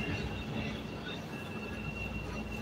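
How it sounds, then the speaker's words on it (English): A southbound CTA Red Line subway train rides through the tunnel in Chicago, a steady loud rumble of wheels and car noise with a thin high whine, no talk. "southbound Red Line train"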